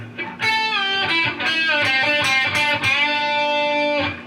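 An electric guitar plays a distorted lead phrase from a solo, a run of sustained, bending notes ringing clearly and alone for about four seconds.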